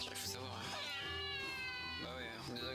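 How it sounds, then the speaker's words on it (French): A cat yowls loudly in long, wavering caterwauls, close and insistent, with a voice speaking at the same time. "Le Efecher, un chat qui hurle très fort parfois."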